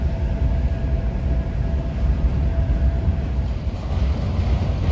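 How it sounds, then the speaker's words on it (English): A long Norfolk Southern freight train rumbles past on the Pittsburgh Line near a bridge and curve, a heavy, continuous low roar of wheels and cars with a faint steady squeal above. "This train is a monster."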